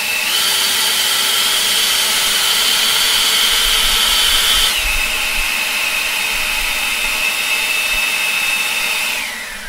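An EGO electric leaf blower runs in turbo mode, a loud, steady close-up whine and rushing airflow that drops slightly in pitch midway before winding down at the end.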